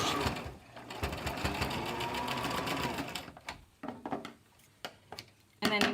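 A sewing machine back stitches a fabric face mask, a steady whirring run for about three seconds, then stopping and restarting in short bursts, close and alone.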